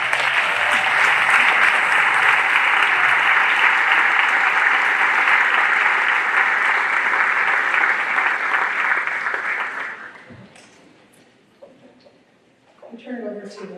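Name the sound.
audience applause at band concert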